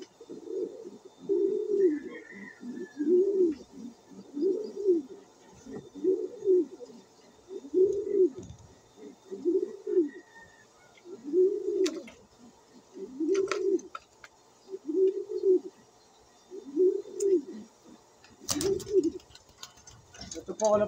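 Pigeons coo in a loft, a steady series of about a dozen soft, low, rhythmic coos roughly every second and a half, with faint chirps and light clicks in the quiet background.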